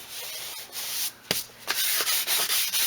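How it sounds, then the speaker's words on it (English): Light hand sanding across a dyed leather car seat from a Toyota Celica, close broadband rasping strokes in a steady back-and-forth rhythm with short pauses between passes. "I'm just going to give it another light sand"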